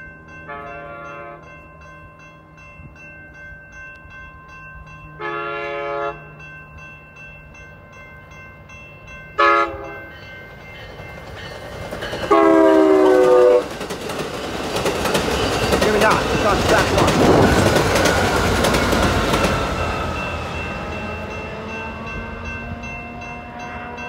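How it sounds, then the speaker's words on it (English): A southbound Amtrak San Joaquin passenger train passes on track 2 in Hanford, California. Several separate horn blasts sound first, then a loud rumble and wheel clatter build and fade as it goes by. "we got an Amtrak train heading southbound"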